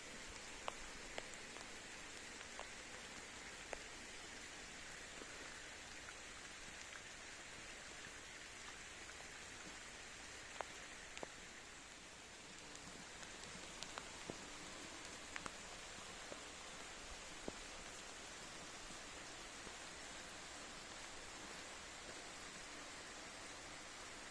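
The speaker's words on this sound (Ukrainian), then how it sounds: "І до нас дощик прийшов." Light rain falls steadily in a garden with juniper shrubs, a soft continuous patter with scattered faint drips, quiet and even throughout.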